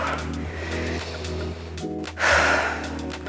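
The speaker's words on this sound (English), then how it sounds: "Big breath in. Breath out, go deeper." A person breathing deeply during a side splits stretch, with a strong, close exhale near the end over a low steady background hum.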